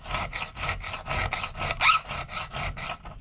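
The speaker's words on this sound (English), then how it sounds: "Okay, take our triangle file. This has to be done before heat treating while the steel is still soft." A triangle file rasps across soft, unhardened knife steel on a harpoon knife blade, cutting jimping notches in about a dozen quick, even back-and-forth strokes, close up and alone.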